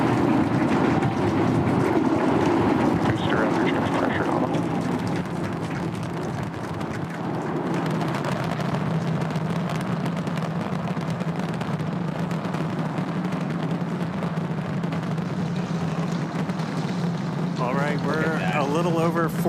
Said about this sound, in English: 33 Raptor engines ignited. Boosters pushing us downrange over the Gulf.